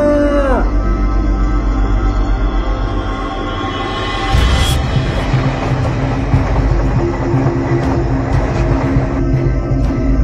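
A train on a railway line at night draws closer, a loud low rumble that swells midway into rattling wheels and clattering cars, with a long tonal horn-like drone fading at the start.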